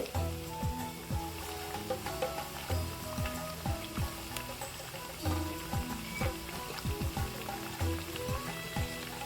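Toor dal vadai made from ration dal fry in hot oil, giving a steady, fairly soft sizzle with crackling bubbles and occasional louder pops throughout.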